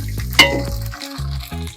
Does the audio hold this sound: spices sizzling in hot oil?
yes